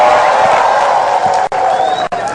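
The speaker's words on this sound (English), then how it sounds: "What would the round of applause sound like if Kenya scored the winning goal in the World Cup final?" Seminar audience cheering and whooping as if for a World Cup final winning goal, a dense continuous crowd roar with a few sharp drop-outs, loud and close.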